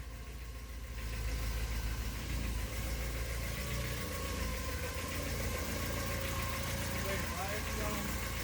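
A 1983 Porsche 944 engine runs steadily at idle with a low, continuous rumble and faint mechanical knocking, starting quieter for the first second then holding constant.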